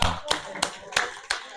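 Clapping from an audience at a grassroots nonprofit boot camp session, a few sharp, evenly spaced claps close by over a short stretch.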